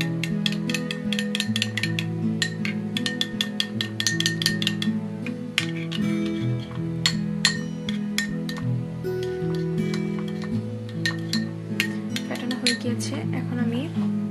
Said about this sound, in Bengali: তার আগে টক দইটাকে খুব ভালোভাবে ফেটিয়ে নিতে হবে।